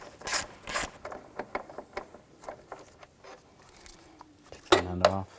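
A ratchet with a 10mm socket loosening nuts on a Ford Explorer transmission mount bracket, heard as soft, irregular clicking bursts close by, with a couple of louder scrapes of metal at the start and end.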